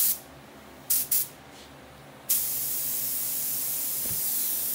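Spray gun laying down 4040 bleed check coating, with a few short hissing bursts followed by a long steady spray hiss that carries on to the end.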